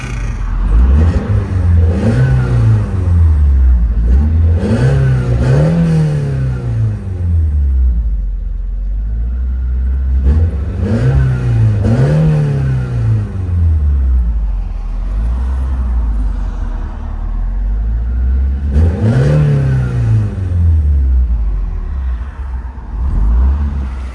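Heard from inside the cabin, a 1977 Toyota Celica GT with a swapped 3SGE engine and a full exhaust from the headers back revs repeatedly, loud rising and falling surges over a steady idle rumble.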